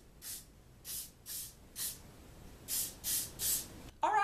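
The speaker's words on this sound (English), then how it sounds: "And then just spray your curls to make sure" Seven quick bursts of hairspray hiss in an uneven rhythm, close and fairly loud, followed by a brief rustle at the end.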